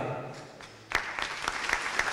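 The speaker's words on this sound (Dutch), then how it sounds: "Ik wil een applaus voor Lions Club Quatta" Scattered clapping at a Lions Club Kwatta gift ceremony for graduates. A few distinct hand claps start near the one-second mark and grow into a sparse, uneven patter after a quieter opening with faint voice-like sound.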